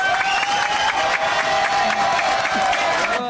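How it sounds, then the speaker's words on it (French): Studio audience clapping and cheering on a French TV variety show, a steady crowd wash with solemn music running under it, fairly loud throughout. "Bravo, applaudissements."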